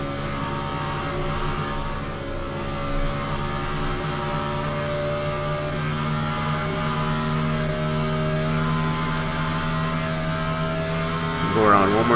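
Race car engine from the NASCAR Racing 2003 video game, a steady loud drone with layered harmonics holding nearly constant pitch throughout, rising into a quick rev near the end.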